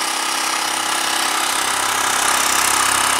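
A Mi portable air compressor runs loud and continuous, set for a bike tire. It makes a harsh, dense mechanical buzz with a fast pulsing rattle. The noise is close and unbroken, and nobody talks.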